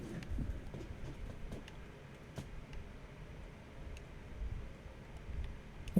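A train rumbles past at a distance in the Silent Hill 2 Remake video game, a steady low rolling roar with faint rhythmic clicks, sustained and fairly quiet with no talking.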